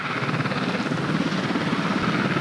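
A police helicopter hovers during a special operations drill, its rotor chop steady and loud with a continuous engine drone throughout.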